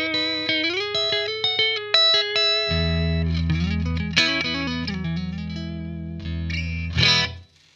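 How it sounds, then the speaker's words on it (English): An electric guitar plays through a Blackstar AMPED floorboard amp on its warm clean channel at 20 watts: single picked notes ring out, then full sustained chords strum with a final accent before fading, loud and close with no voices. "It's a pretty pleasant clean sound straight away."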